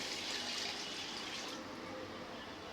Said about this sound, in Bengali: 2 কাপের মতন পানি দিয়া দিলাম।